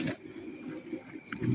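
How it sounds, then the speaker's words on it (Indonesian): Monkey calls rise out of a dim, humming outdoor setting, with a few faint cries heard at a distance over a steady high insect-like drone. "suara kera, Mas"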